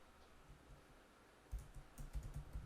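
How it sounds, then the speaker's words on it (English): Typing on a computer keyboard while entering database records, a quiet start that turns into a quick run of close, soft key clicks in uneven bursts, with no talking. "We can type"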